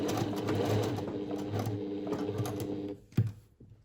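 A sewing machine runs steadily while stitching across a seam with a few backstitches, its close mechanical whir continuing for about three seconds before stopping with a couple of clicks.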